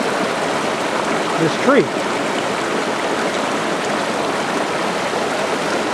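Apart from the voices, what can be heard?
water flowing in a mountain stream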